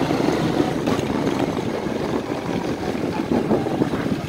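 A 1992 Quadrunner 300 ATV engine runs steadily after sitting for months, a loud continuous rumbling drone with slight shifts in load as it is ridden.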